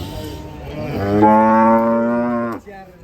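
A cow lets out one loud, drawn-out moo lasting over a second while cattle and buffalo are unloaded from a truck, close and clear above faint background noise.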